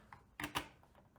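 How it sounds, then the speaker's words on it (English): Two dull, muted Logitech MX Master 3S mouse button clicks in quick succession, close and fairly soft, with a faint lighter tap before them. "not everybody is gonna like this deadbeat click"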